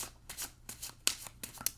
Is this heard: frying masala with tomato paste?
no